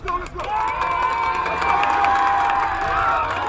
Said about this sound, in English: Samo crowd cheering on their defense, asking for 1 stop on 3rd and 9